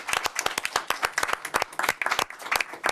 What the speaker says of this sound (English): let's give all of our liaisons one more round of applause